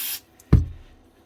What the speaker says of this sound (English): Contact cleaner, give it a good spray